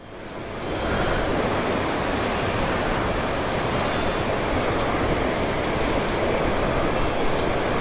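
Raging water with breaking waves roars in a dense, continuous wash, loud and close, swelling in after a brief quieter start and holding steady without talk.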